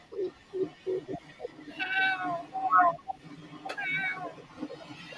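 Cats meow repeatedly, several drawn-out, wavering cries close by. They come over a busy background of chatter and low clatter in a truck stop setting.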